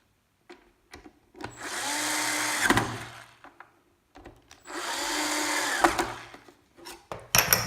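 Two long bursts of a whining motor, each a few seconds, as a power screwdriver drives screws into plastic, with brief clicks and handling noise between.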